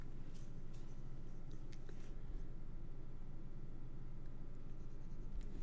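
A pen marks a handmade garden card, with soft, continuous scratchy writing strokes close by over a steady low background hum.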